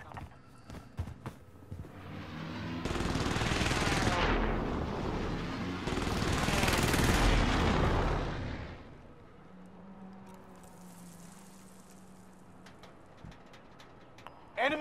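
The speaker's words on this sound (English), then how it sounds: "Enemy precision airstrike. Stay alert." An enemy precision airstrike in Call of Duty Modern Warfare lands as two long, loud bursts of rumbling explosions a few seconds apart, followed by quieter distant rumble and scattered crackles.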